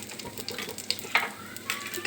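Dried red chilli and asafoetida crackle faintly in hot oil, a soft sizzle with small scattered pops, quiet and close.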